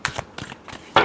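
Tarot cards being shuffled close up in a few quick riffling bursts, a sharper flurry at the end, with no talking.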